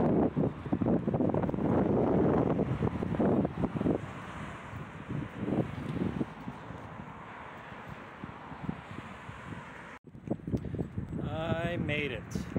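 Strong outdoor wind buffets a microphone in steady, heavy rumbling gusts that ease off midway, with a voice talking underneath throughout.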